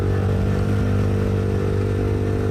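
A motorcycle in its break-in period being ridden at a steady, restrained speed of about 40 km/h, its engine droning loud and close with a continuous low rumble and no revving.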